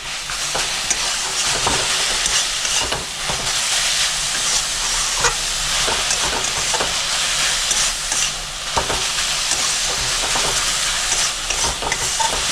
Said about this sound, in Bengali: বাদাম আর পোস্ত দিয়ে আমি 2 থেকে 3 মিনিট আরও ভালো করে ভাজা করে নেবো শাকটা